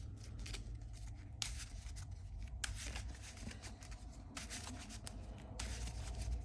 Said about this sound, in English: I got to shuffle my deck.